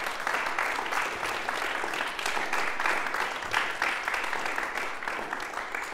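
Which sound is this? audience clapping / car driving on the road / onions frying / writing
audience clapping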